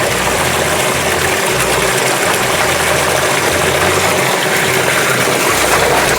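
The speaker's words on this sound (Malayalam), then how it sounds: "മോട്ടർ ഡ്രൈവ് ആകുന്നതിനനുസരിച്ച് വെള്ളത്തിൻ്റെ അളവ് കൂടുതൽ വരും." A small BLDC solar water pump pushes a heavy flow out through a 2-inch pipe, giving a loud, continuous rushing and gushing of water over a low, steady motor hum, with no voices.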